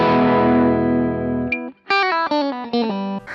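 Fender Stratocaster electric guitar with the middle pickup wired in parallel, run through effects with some distortion: a long sustained chord fades, then a quick run of bright picked notes follows, loud and close with no talking.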